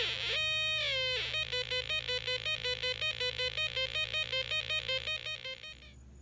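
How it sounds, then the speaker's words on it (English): A Snap Circuits strobe integrated circuit drives a buzzer, giving a sweeping tone then a rapid regular pulsing beep pattern, electronic and steady, fairly loud and alone. "The color LED is controlling the strobe integrated circuit as well as the white LED, so you're going to hear unusual sound effects."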